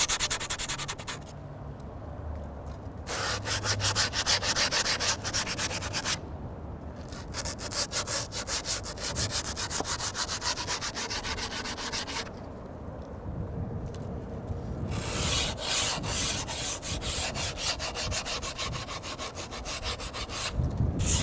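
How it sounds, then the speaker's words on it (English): Skateboard grip tape has its edge lightly sanded along the board, giving repeated close scratchy rubbing strokes in bursts separated by brief pauses, with no talk. "just lightly sand that edge. It smooths it out and rolls it over."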